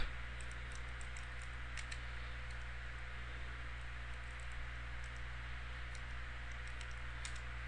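A computer keyboard is typed on to enter a command: quiet, irregular key clicks in short bursts over a steady low fan-like hum.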